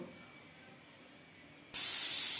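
A pressure cooker cooking mutton curry suddenly lets off its whistle: after a quiet stretch, a loud, harsh jet of escaping steam bursts out close by and keeps hissing steadily.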